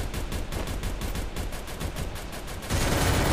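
Rapid automatic gunfire from Garena Free Fire, a dense, regular burst of shots at steady rhythm, loud and continuous, with a heavier blast near the end.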